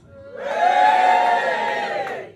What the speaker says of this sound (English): Can everyone on this side give a big cheer, please?